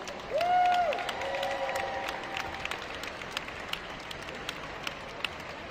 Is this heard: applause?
yes